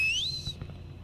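A person whistles a rising, sliding high note that holds briefly and then cuts off within half a second, played over a low hum in the Backrooms Escape Together game.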